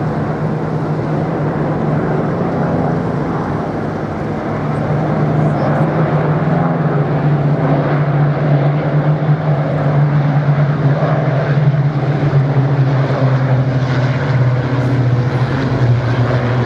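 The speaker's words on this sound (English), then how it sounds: "the Lancaster and the fighters of Thompson formation from the Battle of Britain Memorial flight" An Avro Lancaster bomber and fighter aircraft of the Battle of Britain Memorial Flight fly past at an air tattoo, a sustained deep propeller engine drone, loud and steady throughout with crowd ambience.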